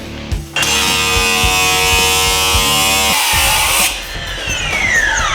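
A chop saw and Milwaukee Sawzall attacking a Canon safe, a loud, steady high-pitched grinding whine with rhythmic pulsing that cuts off partway, followed by lower rough metallic scraping, close and alone.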